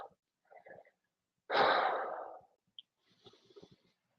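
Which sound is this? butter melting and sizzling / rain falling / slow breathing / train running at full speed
slow breathing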